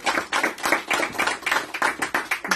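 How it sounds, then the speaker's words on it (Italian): Audience applause at an Italian book presentation event, heard as a steady burst of close hand clapping with distinct individual claps throughout, no talk. "Allora, innanzitutto un applauso a Istantanee e a Caterina De Mari."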